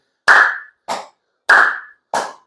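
Four sharp, close hand claps from a seated exercise ring out alone in a measured pattern, strong then softer, strong then softer, each with a brief decay before silence.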